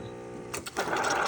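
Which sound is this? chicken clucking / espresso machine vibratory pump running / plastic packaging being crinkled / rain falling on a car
espresso machine vibratory pump running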